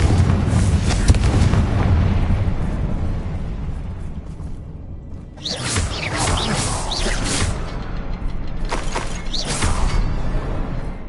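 A Confringo fire spell bursting in Hogwarts Legacy, a loud rumbling explosion with a whooshing blast that fades into sustained roaring debris and crackle, followed by further booming bursts.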